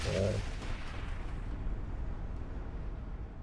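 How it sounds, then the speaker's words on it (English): A Panther assault cannon fires in the Shadowrun: Hong Kong Extended Edition video game: one heavy, booming blast opens the moment and trails off into a long, rumbling roar. "Panther assault cannon, that's my mark."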